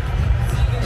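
A large stadium crowd at a Schalke versus Karlsruhe football match, applauding and murmuring as a steady, dense roar of hands and voices that fills the whole moment.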